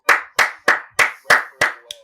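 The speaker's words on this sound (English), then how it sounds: "Round of applause for the prestigious Chelsea Football Club" Seven sharp claps from a small group or single person, evenly spaced and close, each with a quick decay, for a podcast round of applause honoring Chelsea Football Club.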